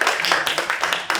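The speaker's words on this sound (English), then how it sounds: "I want you all to give yourself a round of applause." An audience claps through a round of applause in a hall, the dense clatter of many hands keeping a steady, fairly close wash for the whole short stretch.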